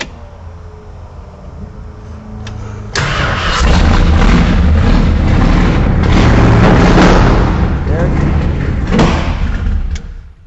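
A 1970 Dodge Charger Daytona race car cranks and bursts into a very loud, roaring start around three seconds in, then rumbles at a heavy idle close to the microphone, with no talking.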